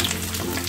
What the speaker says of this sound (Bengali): দেখো পনিরগুলো ভাজা হয়ে গেছে